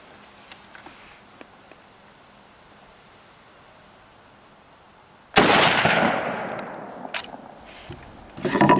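A single loud, close gunshot from an M1916 Spanish Mauser rifle in .308 cracks out after a quiet stretch of outdoor insect ambience, followed by a long echoing rumble and a few fainter impacts, with no talk.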